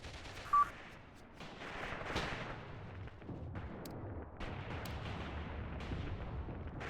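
Dense battlefield gunfire from the video game Mius Front, with machine-gun bursts and heavy explosive thuds blending into a continuous loud roar that barely lets up for several seconds, with no voices.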